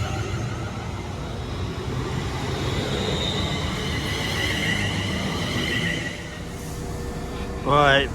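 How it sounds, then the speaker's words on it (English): A West Midlands Railway passenger train, unit 172345 on a service to Whitlock's End from Kidderminster, passes nearby with a loud, steady rumble and rushing roar, ending with a brief high squeal near the end. "there goes 172345 on the 1051 West Midlands Railway service to Whitlock's End from Kidderminster"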